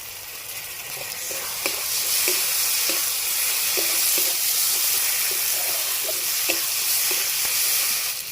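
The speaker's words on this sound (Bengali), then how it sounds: "নেড়ে ভেজে নিতে হবে" Ground cumin, coriander and stone-ground garam masala fry in a pan for a snakehead fish curry, sizzling loudly and steadily up close with repeated light scraping knocks from stirring.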